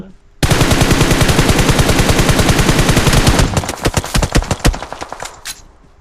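Loud sustained automatic gunfire in a video game, a rapid burst of evenly spaced shots running about three seconds, then breaking into slower, irregular single shots that fade out.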